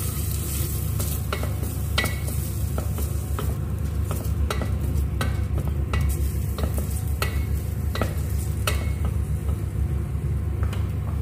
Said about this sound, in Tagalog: Magigisa tayo ng sibuyas or onion.